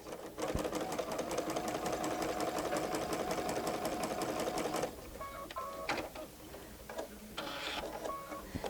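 A sewing machine stitches ruching at a fast, steady rhythm for about five seconds, a close mechanical whirring with regular ticks. It then stops, leaving softer clicks and handling noises.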